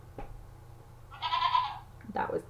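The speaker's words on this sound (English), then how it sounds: "that was the goat." A goat on a farm gives a loud nasal bleat, then a second shorter cry, fairly near, over a low background hum.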